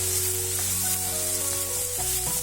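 Capsicum sautés in a hot pan for Schezwan noodles, giving a loud, steady, close sizzle with faint scraping of a spatula and no talk.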